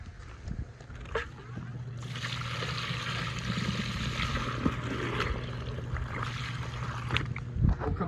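Water drains from aquaculture tanks through an opened valve. After a low hum, a loud, steady rushing flow sets in and continues close by, with a few knocks and splashes.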